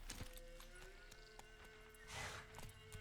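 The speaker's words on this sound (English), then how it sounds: "Horse is over here." Hooves clip-clop at a steady pace in the video game The Witcher 3: Wild Hunt, then a horse gives a short neigh partway through. The scene is quiet, with no talking.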